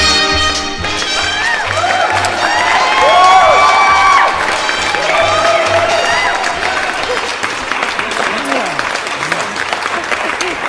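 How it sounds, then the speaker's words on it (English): Loud, sustained theatre audience applause and cheering for a stage guest, many hands clapping steadily with some whoops, rising then easing, with voices over it. "Aren't you used to applause then?"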